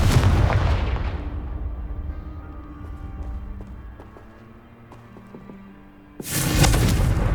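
A Confringo spell explosion in the video game Hogwarts Legacy: a loud blast rumbles out and fades over several seconds under quiet ambience, then a second heavy burst erupts near the end.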